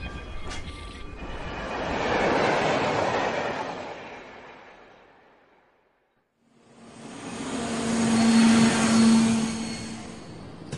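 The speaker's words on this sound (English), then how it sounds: "We have arrived at the airport." Two roaring aircraft pass by in an airport setting, each swelling to a loud peak and fading away, with a near-silent gap between them and a steady tone during the second.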